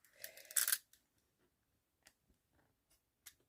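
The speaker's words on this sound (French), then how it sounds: "j'ai pas de ciseaux qui coupent" Scissors cut the material of a card embroidery kit, giving a brief crunchy snip up close, followed by a few faint ticks and clicks in a quiet room.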